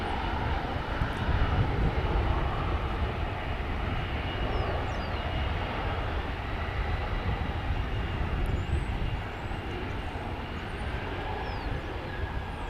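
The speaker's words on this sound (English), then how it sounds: "This would appear to be an A321 on its way to Phoenix." An Airbus A321 at DFW airport on its way to Phoenix, a broad jet engine roar holding steady and loud throughout, heard from the runway side with no talk.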